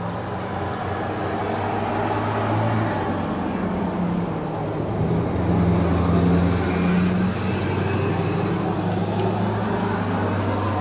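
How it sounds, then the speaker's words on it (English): A loud car passing by outside, a broad steady low rumble and hiss that swells slightly midway, heard alone without talk. "a car drove by and it was loud."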